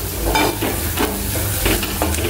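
Turmeric, salt and masala fry in hot oil while being stirred, a loud continuous sizzle broken by regular scraping strokes of a spoon, no talking.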